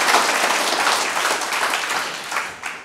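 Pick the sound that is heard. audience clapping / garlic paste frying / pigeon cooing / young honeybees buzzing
audience clapping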